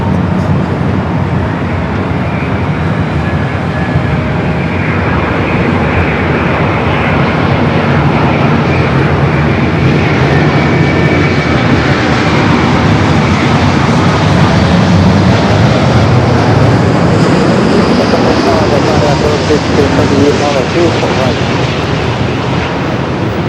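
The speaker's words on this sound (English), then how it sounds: "Heavy Boeing 787, touching down" A heavy Boeing 787 Dreamliner touching down at LAX, its loud jet roar swelling and sustained throughout and rising to a peak near the middle. Faint voices and traffic-like background noise sit underneath.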